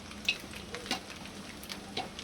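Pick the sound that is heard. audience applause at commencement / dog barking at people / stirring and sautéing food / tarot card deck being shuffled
stirring and sautéing food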